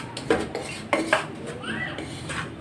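Semolina dry-roasting without ghee in a pot over very low heat, stirred with a metal spoon that scrapes and clinks against the sides in several sharp knocks, close and fairly loud.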